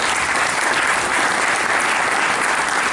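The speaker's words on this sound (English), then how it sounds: "give him a great round of applause for what he did" Audience applause at an indoor ribbon-cutting ceremony: a full, continuous wash of many hands clapping, loud and even from start to finish, with no voices standing out.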